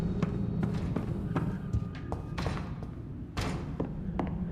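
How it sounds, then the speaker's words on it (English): Repeated banging on a door in the vampire game Vampyr: a string of sharp, irregular thuds and knocks over a steady low background hum, moderately loud and close, with no talk. "Don't bang on the door?"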